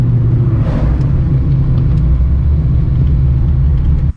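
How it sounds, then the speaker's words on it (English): A 530 whp naturally aspirated Coyote V8 swapped into a Foxbody Mustang rumbles loudly and steadily from inside the car, with a brief rev blip partway through, before cutting off abruptly at the end. "the rev downshift is so good in this car"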